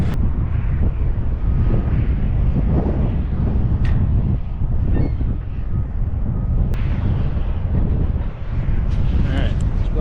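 An oxy-fuel cutting torch bevels a pipe and backfires repeatedly, a loud roaring hiss broken by irregular pops and bursts, with a couple of sharp cracks standing out, continuous for about ten seconds.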